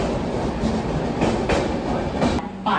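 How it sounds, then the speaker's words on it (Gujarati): Saurashtra Mail passenger train at a station platform in India, a loud continuous rumble of rolling coaches with rhythmic clickety-clack of wheels over rail joints, close by and without talk. "તો આ અમારી ટ્રેન આવી ગઈ છે,"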